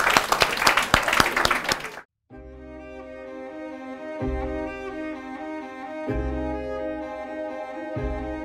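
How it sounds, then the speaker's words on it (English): An audience applauds before a 60 kg bluefin tuna is cut for sashimi, with dense clapping for about two seconds that stops abruptly, followed by music. "Maybe you guys would like to give a round of applause before my chef begin"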